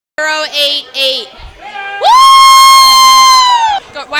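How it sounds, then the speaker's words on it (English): People cheering and shouting at a Super Bowl party for the Ravens, with loud voices including children's, then a long sustained whoop that rises and holds for about two seconds before trailing off. "Why are we cheering for the Ravens?"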